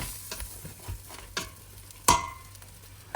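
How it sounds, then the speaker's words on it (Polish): A vegetable pasta sauce is scraped from a frying pan into a pot, making soft scrapes and light clacks of a utensil against metal, with one sharp knock near the end. "zawartość patelni przekładam do garnka"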